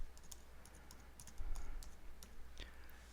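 Soft keyboard typing on a computer keyboard entering a search query, a quiet run of light irregular key clicks over a low hum, fairly close and faint.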